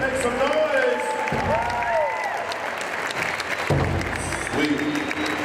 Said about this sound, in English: Let's put another round of applause together.